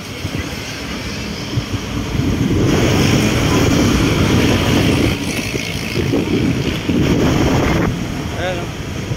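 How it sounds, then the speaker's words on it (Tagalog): Strong wind buffets the microphone in loud, rushing gusts over the churn of water around a moving boat. "Lakas ng hangin."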